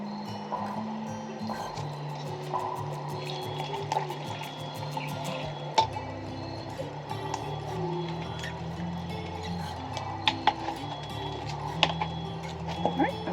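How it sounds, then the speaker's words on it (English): A spoon works through beef stroganoff with sour cream in a pot over a campfire, giving soft wet sloshing and scraping that keeps on steadily at a moderate level, with some speech nearby. "Give that a good stir"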